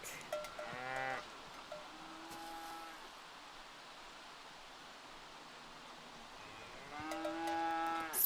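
A cow lowing in The Sims 3 video game on a rainy farm lot, two drawn-out moos near the start and end separated by a quiet stretch of soft rain-like hiss.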